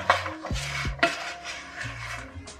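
A pan of candied peanuts in caramelizing sugar is lifted off the heat and set back down, giving metallic scrapes and clanks with rattling nut noise, close and moderately loud, with no talking.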